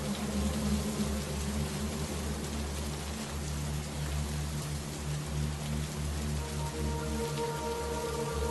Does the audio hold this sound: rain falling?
yes